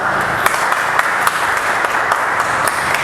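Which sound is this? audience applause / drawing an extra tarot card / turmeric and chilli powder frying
audience applause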